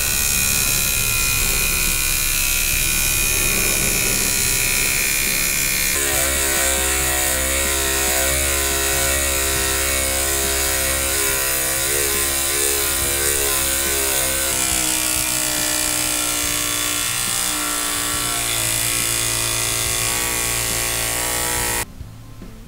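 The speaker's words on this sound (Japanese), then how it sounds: "この先が回ります。 これで削るという道具ですね。" A handheld electric rotary tool with a spinning tip grinds and sands a plastic model tank diorama base at 400 grit, giving a loud, steady mechanical whine with a shifting pitch that runs continuously before cutting off at the end.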